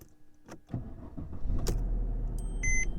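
A 2008-2014 Mercedes C250/C300 (W204) engine cranks and catches, settling into a steady idle after a few clicks and a short whirring starter, with a chime near the end.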